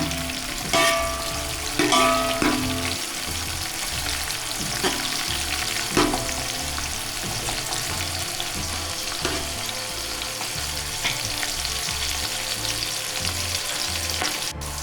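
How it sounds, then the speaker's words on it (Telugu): Onions frying in a pan for a Telugu-style mutton pulao: a steady, close sizzle runs throughout, with a few louder clatters as a spoon stirs and scrapes the pan. "అంటే ఆనియన్ వేగాలన్నమాట"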